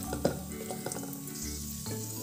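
Raisins fry in ghee in a pan over a low flame, a soft continuous sizzle with a few light scrapes and taps of stirring, close but quiet.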